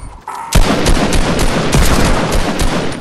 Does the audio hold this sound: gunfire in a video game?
yes